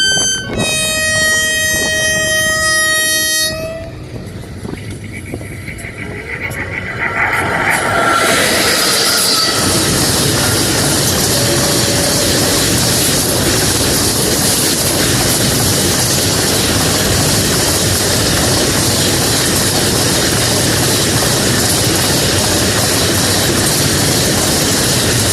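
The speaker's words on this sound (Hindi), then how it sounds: "अभी सामने से शायद एक मालगाड़ी आ रही है।" A freight train passes a small local railway station, starting with a sharp horn blast, then a loud, steady rumble and clatter of wagons that continues to the end.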